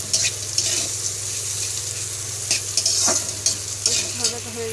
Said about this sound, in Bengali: এখানে উচ্ছে ভাজাটা হচ্ছে গ্যাসের মধ্যে